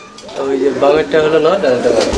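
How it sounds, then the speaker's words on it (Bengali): A male and female pair of pencil pouter pigeons coo loudly and close by in warbling, repeated phrases, mixed with nearby talking. "এটা মাদি কবুতর আর এইটা হচ্ছে নর কবুতর"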